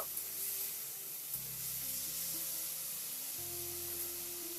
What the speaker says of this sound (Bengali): এবার এই পর্যায়ে আমি যে মশলাটা গুলে তৈরি করে রেখেছিলাম সেই মশলাটা অ্যাড করে দিয়েছি তো মশলাটা দিয়ে খুব ভালো করে নাড়াচাড়া করে নেব